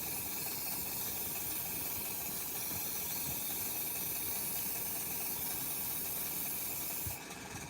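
An airbrush sprays SMS Advance paint in one long, steady, close hiss that runs almost without a break, ending with a small click near the end.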